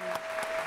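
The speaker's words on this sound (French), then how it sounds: "Je souhaiterais s'il vous plaît qu'on puisse applaudir pour Guy." Brief burst of audience applause at an anniversary party at a bar, steady dense clapping throughout a short moment, moderately loud with no speech over it.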